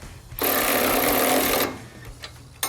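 A cordless electric ratchet fitted with a 17 mm socket whirs in one short, loud burst of about a second, close by, followed by a couple of faint clicks.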